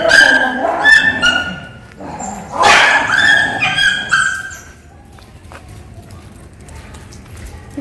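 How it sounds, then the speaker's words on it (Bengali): Street dogs bark and yip in loud bursts close by for a few seconds, with some whimpering, then the noise fades to quieter background sounds. "দেখো কুকুরগুলো কি হচ্ছে,"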